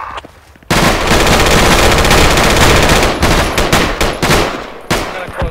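Dense video game firefight gunfire bursts in suddenly after a quiet moment, loud sustained automatic fire that breaks into choppier bursts and separate shots toward the end.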